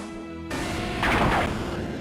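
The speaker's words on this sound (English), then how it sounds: "Explosion." A booming explosion in a Pokémon Z video game bursts over a low rumbling background, swelling and fading within a couple of seconds.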